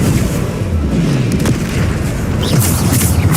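Bombarda blasting spell explosions in Hogwarts Legacy gameplay: a steady, loud barrage of deep booms and crackling bursts rolling on without pause, with no talk over them.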